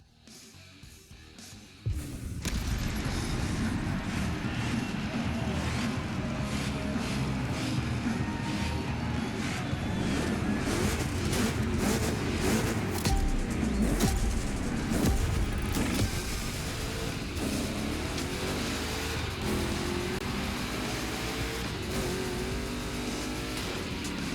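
Two Chevrolet big-block engines race in The Crew Motorfest, a steady, loud, continuous engine roar that starts abruptly and holds for over twenty seconds, with no voices over it.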